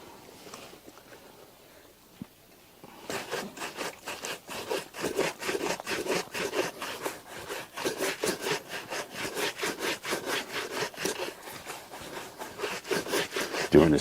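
A brush buffing leather shoes to a shine makes fast, rhythmic back-and-forth swishing strokes, close and steady, starting after a quiet few seconds and continuing to the end.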